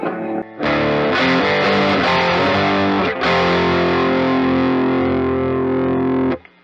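A loud, heavily distorted electric guitar through an amp with an attenuator, playing chunky rhythm chords, ending on a long sustained chord that rings out before cutting off.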